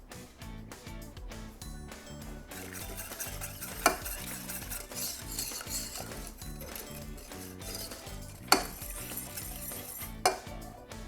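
Pie filling with egg yolks being whisked in a pot, with a rhythmic scraping and stirring that continues throughout and a few sharp clinks of a utensil against the metal rim.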